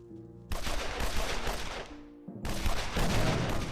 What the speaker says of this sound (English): Oh, I'm hearing gunshots.